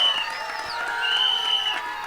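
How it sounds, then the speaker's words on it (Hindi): An audience at the trailer launch of the film Tere Ishk Mein cheers for the actor Dhanush, with a loud crowd roar, applause and sharp, sustained whistles rising above it, close and continuous. "धनुष सर के लिए एक बार जोरदार तालियां"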